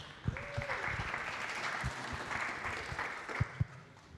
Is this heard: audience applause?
yes